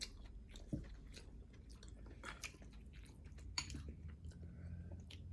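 Close, quiet chewing of food with soft wet squishes and occasional crunchy bites in an irregular rhythm.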